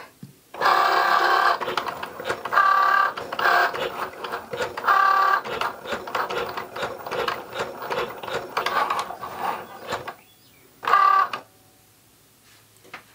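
A Cricut machine draws on a card with a pen, its motor and gears whirring and ratcheting in rhythmic bursts close by, with short pauses between strokes and a final burst before stopping; no speech.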